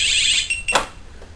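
A motorcycle alarm system sounds after the bike is nudged, giving a brief, shrill electronic tone that cuts off within half a second and is followed by a short click.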